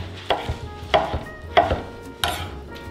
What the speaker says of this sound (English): we're just gonna chop them up into chunks.